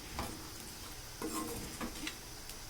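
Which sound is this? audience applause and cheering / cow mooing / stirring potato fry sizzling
stirring potato fry sizzling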